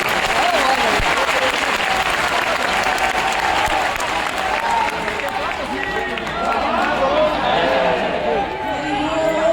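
Sustained audience applause at a Sanatan Dharma gathering in Delhi welcoming a saint, a dense wash of clapping from a large crowd throughout, with voices and chatter mixed in.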